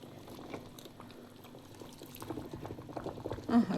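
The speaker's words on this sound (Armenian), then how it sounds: "մի քանի վայրկյան սենց անեմ ու անջատեմ ջուրը արդեն, որովհետև այնքան փափուկ է, որ արագ խաշվում է" Broccoli boils in a pot of water on a gas stove, giving a steady bubbling simmer that stays close and even, with a brief louder surge of bubbles near the end.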